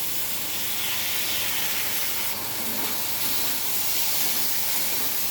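Washed red lentils fry in hot oil for a masoor dal, giving a steady, even hiss and sizzle that stays at one level throughout and is heard alone.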